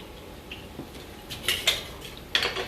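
Peppers and onions being stirred in a pan, with scattered clinks of utensil against metal and light scraping, a few sharper knocks toward the end, no voices.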